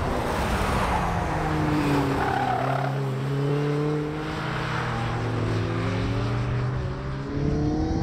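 An Ariel Atom sports car at full throttle, its engine rising through the revs in repeated climbing pulls with brief dips at gear changes, loud, raw and close, with wind rush behind it.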